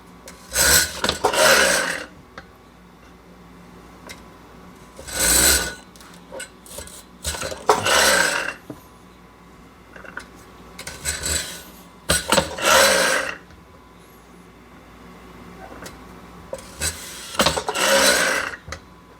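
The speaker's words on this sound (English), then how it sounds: "I set up the potato slicer on a cutting board so that the slices of potato drop right into a pan" Potatoes pushed through a potato slicer set on a cutting board, slices dropping into a pan: bursts of harsh rasping cuts, singly and in quick pairs, with quiet gaps between.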